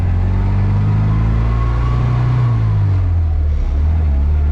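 Riley Elf car pulling away and shifting into first gear, a loud close engine drone rising in pitch, then dipping at the gear change before settling.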